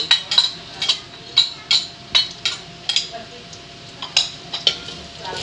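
Ginger and garlic being stirred in a frying pan while cooking laing: a utensil scrapes and clinks against the pan in a steady rhythm of about a dozen strokes over a soft sizzle, with a voice speaking briefly.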